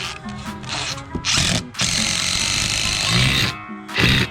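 A power drill drives screws into a top-down aluminum deck post over double blocking, heard as bursts of whirring motor and grinding that start and stop several times at close range.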